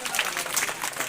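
A gathering applauds at a retirement ceremony for a teacher, the clapping brief but dense and steady, close and fairly loud.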